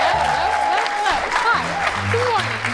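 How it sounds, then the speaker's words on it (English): A studio audience claps for a morning show's sidekick as she is introduced, the applause running under a voice talking and held music tones, fairly loud throughout. "And now you're going to clap again"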